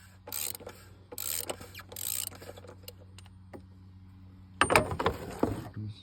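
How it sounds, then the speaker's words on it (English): DeWalt 1/2-inch drive ratchet loosening the oil filter cap on a 2022 Jeep Cherokee, short bursts of quick ratcheting clicks at close range, then a louder clatter of handling near the end, no talking. "And then a DeWalt ratchet, 1/2-inch drive."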